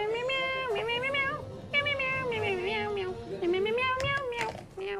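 A group of people sings a long, continuous string of meows, with voices imitating a cat in rising and falling melodic cries.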